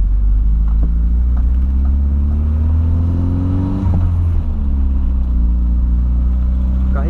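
A Volkswagen Voyage engine runs loudly and continuously close by after an engine wash, with a strong low rumble. The idle rises and falls in a couple of smooth revving sweeps.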